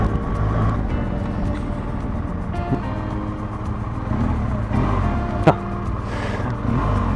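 A steady, rumbling BMW GS motorcycle engine idles and revs at a moderate level, with a loud low drone throughout and a sharp click partway through.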